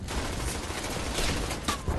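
Dense, continuous German machine gun fire crackles throughout, a sustained burst of rapid shots with no pauses, loud and close.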